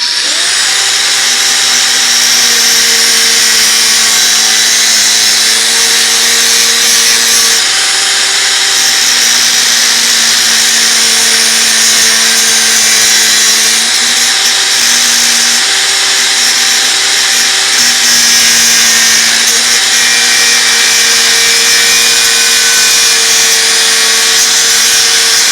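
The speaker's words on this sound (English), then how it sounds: "I'm going to get the grinder on the other side of the Jeep." Angle grinder cutting metal on a WW2 Jeep, a loud continuous high-pitched whine held close for the whole stretch, with slight shifts in pitch as the disc bites, no talk.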